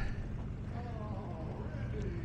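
An Oldsmobile engine fed by four side-by-side carburetors idles with a low, steady rumble, fairly faint and continuous, while a voice talks over it outdoors.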